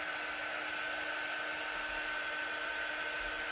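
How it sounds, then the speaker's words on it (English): A hair dryer dries chalk paste on a shirt, blowing in a steady, continuous whoosh with a constant whine that holds evenly throughout, with no voices over it. "Okay, so I'm just drying this really quick."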